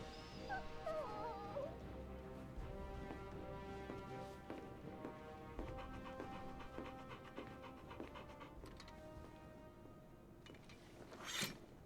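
A puppy in Final Fantasy 16 whimpers with thin high whines early on, over a quiet ambient music bed and soft panting, ending with a brief louder rustle.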